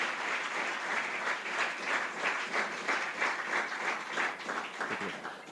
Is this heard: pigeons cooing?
no